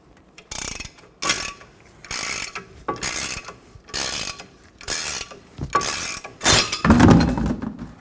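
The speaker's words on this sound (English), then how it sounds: "With the tool set up, go ahead and pull the hub through." An on-car puller draws a wheel hub through on a 2014-2019 Toyota Highlander during a front wheel bearing job, a series of regular ratcheting, grinding bursts about every half second, close and loud, with a heavier crunch near the end.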